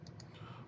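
A computer mouse gives two quick, faint clicks in close succession, then quiet.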